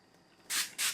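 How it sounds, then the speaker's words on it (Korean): Two short bursts of Miba ion calcium skin toner spray misted onto a cotton pad, close and crisp, the second following quickly after the first. "미바 이온칼슘 스킨 스프레이"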